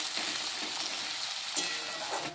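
Chopped onion, capsicum and green chilies fry in a pan for chicken hariyali, giving a dense, steady sizzle close by with a couple of brief stirring scrapes. No voices.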